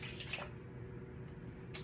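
Half a cup of water is poured into a bowl for a jerky marinade: a brief splashy trickle at the start, then a quiet pause and a small splash at the end.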